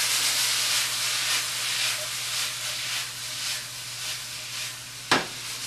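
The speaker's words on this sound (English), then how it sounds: "Let that saute down." Mole sauce for chicken sautéing in a pan gives off a steady hissing sizzle with a faint low hum beneath it, and one sharp clatter near the end.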